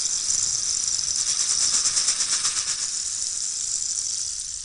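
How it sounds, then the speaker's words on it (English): Rain stick played steadily, a continuous bright rattling hiss like falling rain that swells slightly in the middle and tapers near the end, heard alone with no talk. "I'll end on the rain stick and some chimes."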